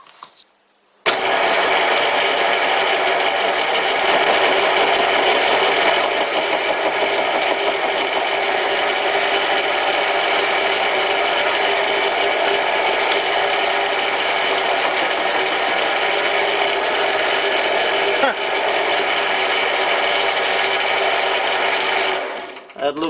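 Metal lathe cutting the edge of a workpiece with the compound slide while making an ER32 collet chuck backing plate, a loud, steady grinding whir that holds for about twenty seconds before stopping.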